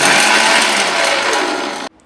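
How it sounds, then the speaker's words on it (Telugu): A mixer grinder whirs loudly and steadily at high speed for nearly two seconds, grinding drumstick leaves into powder, then cuts off abruptly into near silence. "నెక్స్ట్ దాన్ని మిక్సీ వేసుకుంటే మన మునగాకు పౌడర్ రెడీ"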